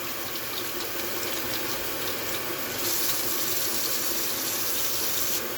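Tap water runs steadily over pet food bowls being rinsed in a sink, a continuous close splashing rush that brightens slightly halfway through, with no talk.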